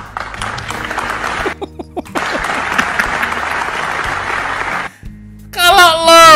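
Audience applause in a meme compilation, a dense, loud wash of clapping that briefly drops out twice, then gives way to a voice at the end.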